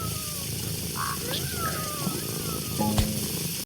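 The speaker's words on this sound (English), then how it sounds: "This time, I will use the orange tabby cat to increase the size of the cocovine fruit." An orange tabby cat in a farming video game meows a few times over a steady background hum and game sounds, the calls short, moderately loud and close.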